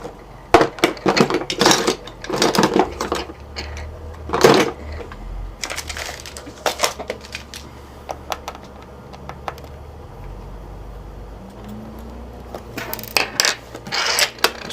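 Metal tools and small objects clatter and rattle as someone rummages for a screwdriver and then works screws on a Sony Vaio laptop plate, with irregular close clicks, scrapes and knocks separated by quieter pauses.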